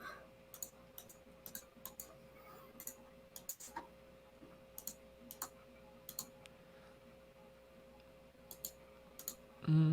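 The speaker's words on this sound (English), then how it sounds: "You sound like you're typing a paragraph over there." Quiet, scattered clicks of keys being tapped on a computer keyboard in short irregular bursts, faint against a low steady hum.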